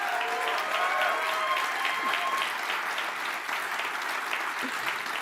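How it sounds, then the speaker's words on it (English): Applause fills the room at a McLaren Formula 1 team launch party as guests clap for two team employees, a sustained, even wash of clapping from a large crowd. "Can we give them a big round of applause?"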